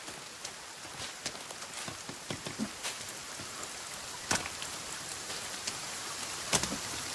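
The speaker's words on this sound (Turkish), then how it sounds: "Yağmur hızlandı." Steady patter of video game rain from The Forest, with scattered sharper drops and taps, a constant wash of noise at moderate level, no voices.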